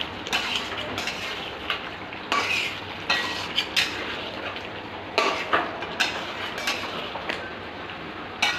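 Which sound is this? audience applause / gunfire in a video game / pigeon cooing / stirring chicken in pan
stirring chicken in pan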